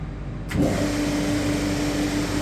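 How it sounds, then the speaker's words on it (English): Vacuum table pump on a CNC router switching on to hold down the workpiece: an abrupt start after a quiet half second, then a loud steady whine and hum that runs on without a break. "we can press the vacuum on,"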